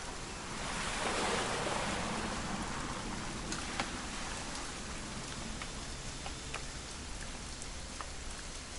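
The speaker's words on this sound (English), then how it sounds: "It's gonna rain the whole weekend" Steady rain falling outdoors on a wet weekend, a dense even hiss with occasional louder drops, close and constant with no voices.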